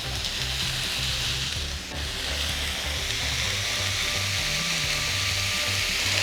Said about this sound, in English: I'm gonna fry them all together very well